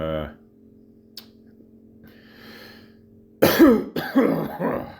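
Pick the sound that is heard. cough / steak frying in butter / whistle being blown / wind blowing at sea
cough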